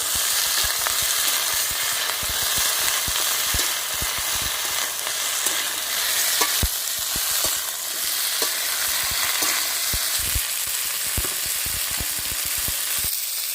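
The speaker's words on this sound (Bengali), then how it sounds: "এবারে কুমড়ো শাকের ডাটাগুলো দিয়ে দেব সব কিছু একসঙ্গে ভালো করে ভেজে দেব" Pumpkin green stalks fry with jackfruit seeds in a village-style vegetarian dish, a loud, steady sizzle close by, broken by frequent clicks and scrapes of stirring, with no talking.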